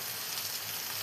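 Chicken mulakittathu with coconut oil and curry leaves sizzling steadily in a pan as it is stirred, a dense, even frying hiss with no pause.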